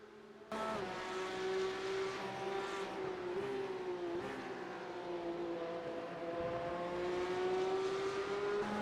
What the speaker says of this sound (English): It's a standing start here in the Porsche Cup